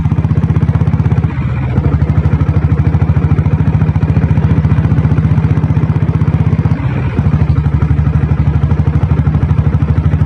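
A Royal Enfield Bullet with a diesel engine runs steadily nearby, a loud, rapid, even thumping putter that dips briefly twice and then carries on.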